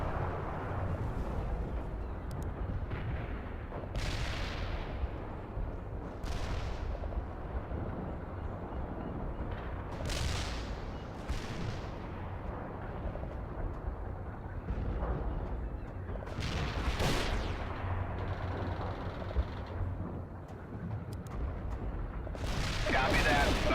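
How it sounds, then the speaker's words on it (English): An artillery barrage strikes a battlefield in the World in Conflict Soviet Assault campaign, with repeated heavy booms over a continuous low rumble. The impacts come at irregular intervals and stay loud and dense throughout. "Artillery in."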